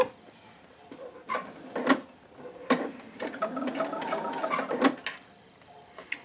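A domestic sewing machine starting a seam at the fabric edge, whirring in short runs with sharp clicks and clatters as it stitches, close and fairly quiet, no talking.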